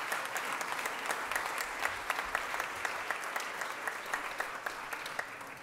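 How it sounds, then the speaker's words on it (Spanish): A crowd applauds at a Chilean presentation of policy proposals, with many sharp, distinct claps that stay moderately quiet and steady across several seconds, with no speech over them. "Yo les pido un aplauso para todos ellos porque ellos son los gestores de este proyecto."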